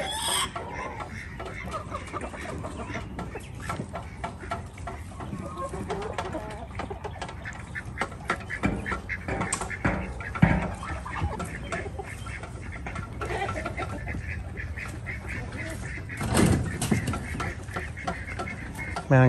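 Backyard chickens with a small rooster cluck and chatter close by, a busy continuous flock sound running throughout, with a few louder calls standing out.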